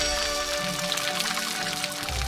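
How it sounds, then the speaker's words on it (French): Rain falls steadily in a Harry Potter video game, a constant hiss of raindrops layered over the game's tonal ambient background. "Ah oui, regardez. Il pleut."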